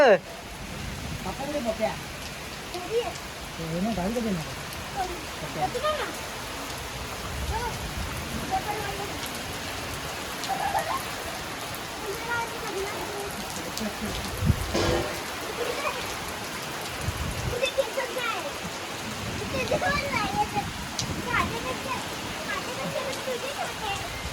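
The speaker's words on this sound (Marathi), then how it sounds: "पावसाचा आनंद घेताना मे महिन्यात गावी, कोकणातल्या गावी" Heavy rain pours steadily over a Konkan village in May, a dense continuous hiss with splashes on surfaces, while voices chatter faintly underneath.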